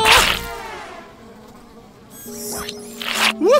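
Flies around a garbage truck in an animated show, loud close buzzing that rises and falls in pitch as they swoop past, with quieter gaps between passes.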